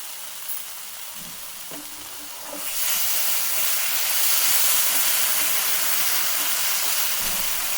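Dates drop into a hot pan for walnut dates halwa and start a steady, loud sizzling hiss that swells after a few seconds and holds close and continuous, with no talking.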